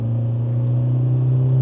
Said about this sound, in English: Okay, that downshift was quite sluggish.